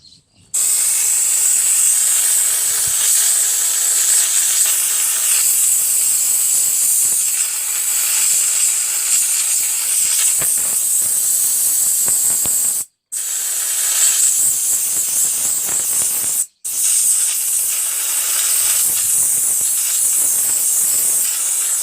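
Baking soda abrasive blasting on a motorcycle saddle: a loud, continuous high-pitched hiss of compressed air and media, broken by two brief pauses where the blaster stops.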